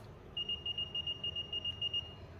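A digital thermometer's fever alert: a rapid series of about a dozen high, thin electronic beeps in even rhythm, close by over a quiet background.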